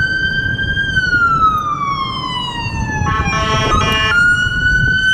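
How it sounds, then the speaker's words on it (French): A wailing ambulance siren sweeps down and back up in pitch at a large intersection, loud over steady traffic noise, with a brief rough overlapping tone mid-way. "C'est l'ambulance."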